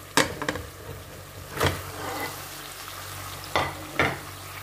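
Beef and pepper sizzle in a hot frying pan with a steady crackle, broken by several sharp scraping stirs of a utensil, close and without talk.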